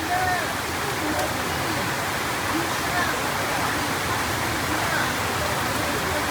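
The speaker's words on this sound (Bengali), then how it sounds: "গ্রামে জানালার পাশে বসে বৃষ্টির শব্দ উপভোগ করতেছি" Steady rain pours down in a village, a dense, even hiss of falling water that fills the whole stretch without pause, close and constant with no voices over it.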